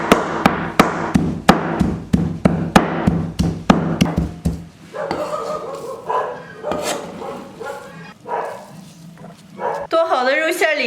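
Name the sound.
chopping pork tenderloin into mince with cleaver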